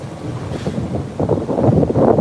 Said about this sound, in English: That's a fishing boat.